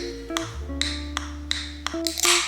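An Alani energy drink can, Winter Wonderland flavour, is handled up close with a series of bright metallic taps and pings, then a short fizzing hiss as the tab cracks open.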